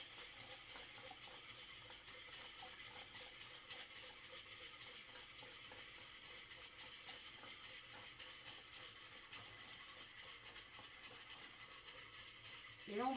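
A Speedy Chef kitchen mixer blends crêpe batter, giving a faint, steady churning whir that runs unbroken throughout and swells slightly at the very end.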